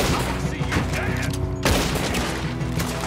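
Continuous gunfire in Red Dead Redemption 2 during a shootout, with dense overlapping shots, booms and a low rumbling game score, plus one sharp louder crack midway.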